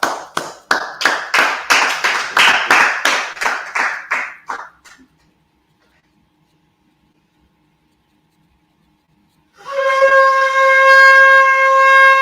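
A congregation at a Sabbath service claps in unison, a strong steady rhythm of about a dozen sharp, loud claps that fade out, then silence before a sustained tonal sound rises at the end.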